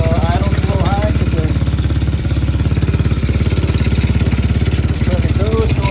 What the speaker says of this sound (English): Idle's a little high